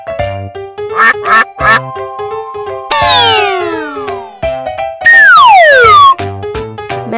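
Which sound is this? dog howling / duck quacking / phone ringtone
duck quacking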